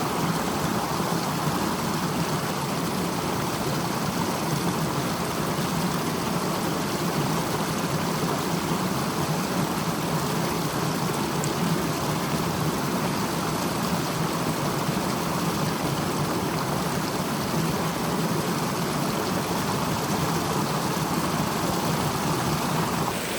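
A cold Carpathian mountain river rushes by in a dense, steady roar of flowing water, close and unbroken for over twenty seconds with no voices.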